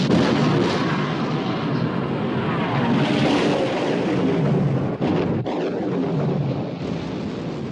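Heavy, continuous roar of battleship guns firing in a naval battle with the Bismarck, loud and dense throughout with a couple of brief dips, like sustained distant cannon blasts rolling together.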